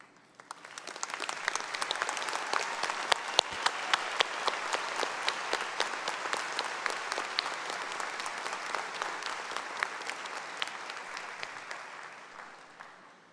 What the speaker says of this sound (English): Would each of you please stand so we can applaud your accomplishments?